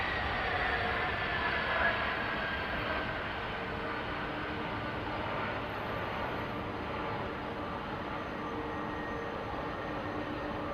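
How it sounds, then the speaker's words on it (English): A Boeing 767 at London Heathrow Airport gives off a broad, steady jet roar that holds at an even, fairly loud level throughout, with no clear rise or fade. "Listen to this 767."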